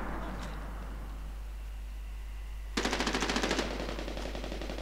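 Automatic gunfire from a multiplayer tactical shooter match defending a fortress, a short rapid burst of about a dozen shots breaking out over steady background hum after a quiet stretch.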